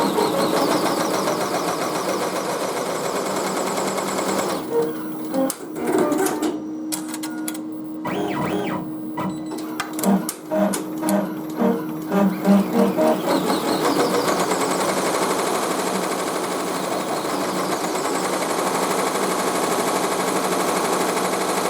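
A multi-head embroidery machine stitches a cap design, its needle heads chattering in a rapid mechanical burst through the middle, set against a steady workshop hum and broadband machine noise before and after.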